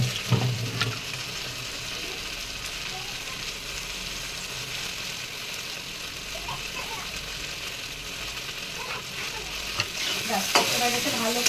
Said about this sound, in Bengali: এবার এতে ভালো করে কষাবো,